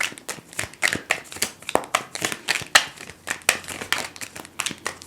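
Tarot cards are shuffled close up in rapid repeated riffles and slaps, a crisp, uneven rhythm of papery snaps with no talking.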